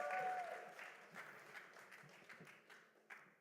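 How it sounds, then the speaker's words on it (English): Audience applause at a startup presentation event, a quiet, distant wash of clapping that fades over a few seconds, with faint room noise and a brief whistle-like tone at the start. "Big round of applause, everyone."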